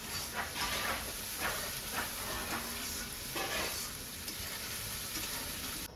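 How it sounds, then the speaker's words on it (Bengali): Spice paste being sautéed in a pan for a koi fish curry, a soft, steady sizzle with intermittent stirring scrapes, fairly quiet and without talk. "এখন মশলাটা একটু কষাবো তারপর"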